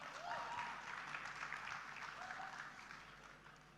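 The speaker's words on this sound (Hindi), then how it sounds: "एक बार जोरदार तालियां हो जाएं फॉर सर अवध ओझा" Audience applause at the Ideas of India Summit welcoming IAS coaching teacher and motivational speaker Avadh Ojha, a steady wash of many hands clapping throughout, fairly distant and easing slightly toward the end, with a faint voice briefly under it.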